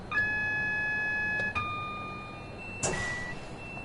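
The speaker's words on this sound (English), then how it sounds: "the alarm's going off" A train cab alarm in the Train Sim World 6 video game aboard a Pendolino, a series of electronic beeping tones at steady pitches that change and restart over a few seconds against a low rumble.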